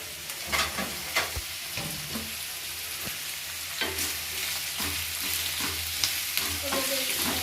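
Ginger, cinnamon, cloves, pepper and cardamom fry in a pan for butter paneer masala, with a soft continuous sizzle and repeated close scraping stirs and light knocks of a spoon against the pan.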